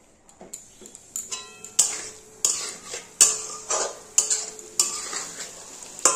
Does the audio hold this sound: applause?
no